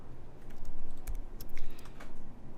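Computer keyboard keys are tapped in a quick burst of sharp clicks while saving a file, close and crisp over a faint background hum, with no voice.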